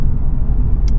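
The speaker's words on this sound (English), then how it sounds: "can do a little second gear pull here" A 2004 Subaru WRX with a stock turbo pulls hard in second gear, its engine a loud, low continuous drone heard from inside the car for about a second.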